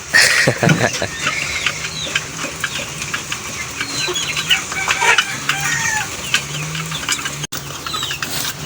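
A flock of chickens clucking and squawking at feeding time during a storm, many birds at once in a busy, steady chorus with scratching and pattering underneath.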